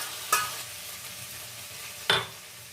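Paneer frying in a pan with sauce for chilli paneer, a low steady sizzle with two distinct scraping stirs of a utensil against the pan, close and without talk.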